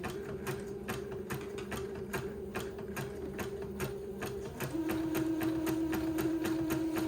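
A sewing machine zigzag-stitches over an earlier row on a handkerchief, ticking in a quick, regular rhythm over a soft motor hum. Near the end the motor's pitch steps to a steadier tone.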